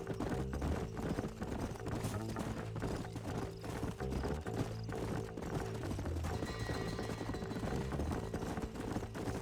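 Horses gallop in Red Dead Redemption, their hooves clip-clopping in a rapid, continuous rhythm under an ambient game soundscape, fairly faint throughout.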